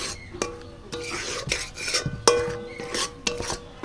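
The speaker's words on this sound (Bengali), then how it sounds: "এবার ফেটানো টক দইটা দিয়ে দেবো" A spoon scrapes and stirs beaten yogurt into a jackfruit curry in a pan, giving sharp metallic clinks and rasping scrapes at irregular intervals, close and fairly loud, with no talking.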